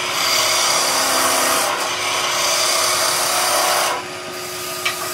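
A skew chisel makes roughing cuts on wood spinning on a lathe, turning a Christmas nutcracker. A loud, continuous rasping hiss sweeps back and forth and drops slightly near the end.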